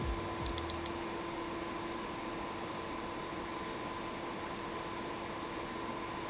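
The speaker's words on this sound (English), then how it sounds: "this is what it sounds like under full load during the stress test" A desktop PC fitted with a compact case and CPU cooler runs a full-load stress test, giving off a steady, unbroken fan whoosh with a low, constant hum beneath it and a few faint clicks near the start.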